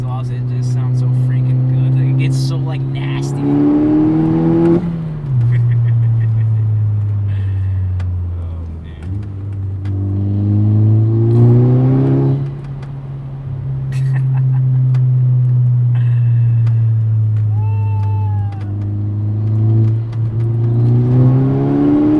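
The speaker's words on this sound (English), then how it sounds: "once this car gets up in the high RPMs with its exhaust, it just sounds so freaking" A Volkswagen Golf R MK6 with an aftermarket exhaust driven hard on a back road, engine repeatedly climbing to high RPM, loud and close, with shifts and lifts between pulls.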